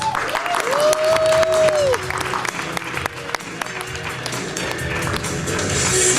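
A comedy club audience applauds as the next comic comes on, steady dense clapping with a few cheers throughout, and a voice rings out briefly near the start.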